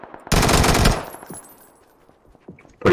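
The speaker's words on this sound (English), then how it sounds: "He's shooting at this guy." A loud burst of rapid automatic gunfire in a battle royale video game, about half a second of continuous shots, then quiet scattered game sounds and another shot starting at the end.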